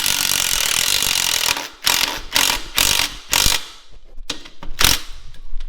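A ratchet wrench tightens a bolt on a motorcycle's left side, a couple of bursts of rapid clicking followed by short separate turns, close and fairly loud with no talk.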